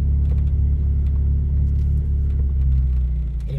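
A Volkswagen Golf MK7.5 rumbles under acceleration, a steady deep engine drone with low throbbing, close and continuous without speech.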